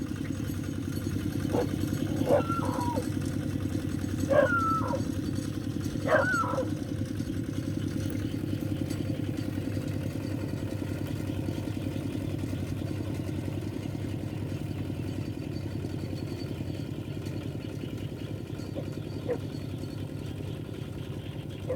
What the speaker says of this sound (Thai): ไปแล้วครับรถไถเราไปถึงนู่นแล้ว